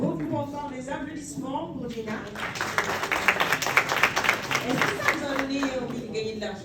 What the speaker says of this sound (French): Les applaudissements pour Dina